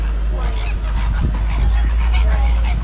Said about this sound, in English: the great flamingos are going like this and squawking